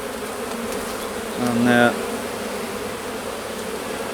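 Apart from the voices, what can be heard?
honey bees buzzing during a hive inspection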